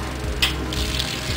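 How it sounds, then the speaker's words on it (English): A propane-fired portable tankless water heater kicks on as water flows through it, giving a soft whoosh of ignition and burner roar over steady running-water hiss, with a brief louder burst early on. "You can hear the heater ignite"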